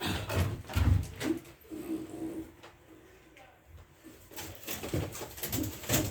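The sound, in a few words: pigeons in a loft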